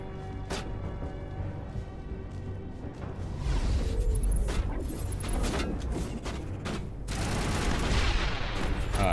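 Grenade launcher fire in Mass Effect 1: a sharp shot early on, then a loud stretch of heavy gunfire and booming impacts that continues in dense bursts to the end.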